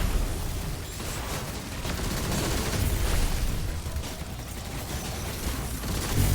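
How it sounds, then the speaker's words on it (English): Sniper rifle fire in the video game Destiny, during a solo Legendary Vex Node.Ovrd.Avalon mission, sounding as dense, continuous combat noise with heavy low rumble and crackling impacts, steady and loud throughout with no clear separate shots. "it sounds like a sniper is still up"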